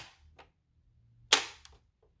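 A single sharp, loud click of a game console power switch snapping into place, with a fainter click just after, in an otherwise quiet room.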